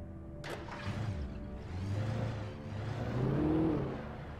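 A car engine in the video game Alan Wake hums steadily and close, its pitch climbing as the vehicle accelerates, with a brief sharp knock near the start.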